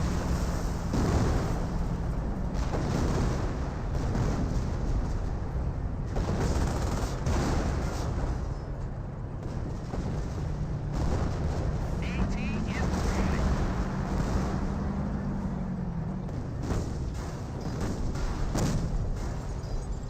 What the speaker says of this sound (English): The artillery just rip apart all the vehicles.